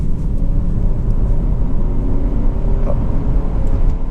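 A loud, steady low engine rumble with heavy road noise, like a Honda Accord 2.4 i-VTEC petrol car accelerating hard heard from inside the cabin, continuous throughout.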